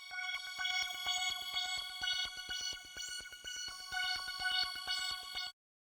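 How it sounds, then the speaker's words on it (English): Serum's Wavetable Dancer sequencer preset plays a fast, steady stream of bright, plucky synth notes with rich upper harmonics in a dark hard-rock beat, loud and alone, stopping abruptly near the end. "But I used this one right here, Wavetable Dancer, from Serum."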